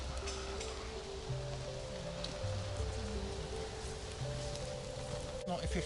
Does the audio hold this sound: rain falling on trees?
yes